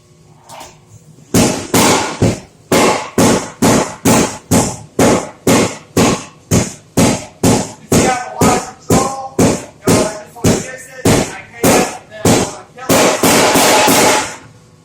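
A power hammer pounds a hot 3/8-inch round steel bar with a long run of loud, sharp, evenly spaced blows, about two per second, ending in a rapid continuous burst.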